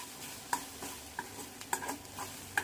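Corn chaat seasoned with salt and chilli is stirred in a pan: a spoon scrapes and clinks against the metal in a steady series of sharp taps over a soft sizzle, close and fairly quiet, with no talking.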